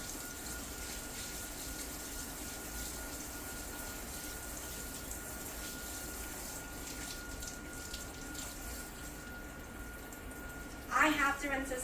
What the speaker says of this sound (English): I have to rinse this off immediately